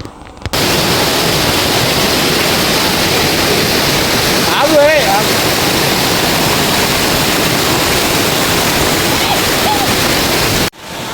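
Water pours continuously at Vanajangi waterfall, a dense rushing roar that stays loud and steady from start to end and drowns out all other sound.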